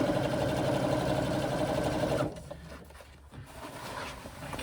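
A sewing machine stitches a full enclosed seam on a swim bag, running steadily and loudly for about two seconds before stopping, leaving a quieter room hum behind.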